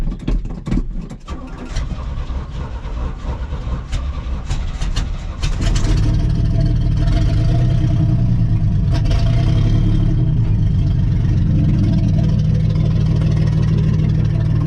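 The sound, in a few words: 1980 Chevy C20 truck engine running roughly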